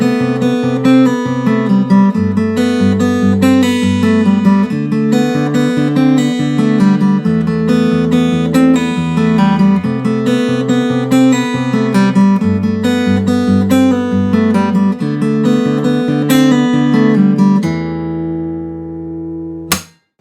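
Fingerstyle acoustic guitar plays the intro of a song from the Kpop Demon Hunters soundtrack, a steady repeating picked chord pattern with bass notes, loud and close, alone for about eighteen seconds before ringing out and stopping.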